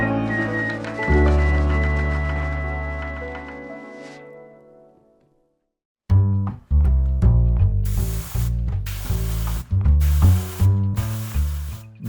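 White primer spray-coated onto miniatures in several short, loud hissing bursts, each about a second long, layered over background music.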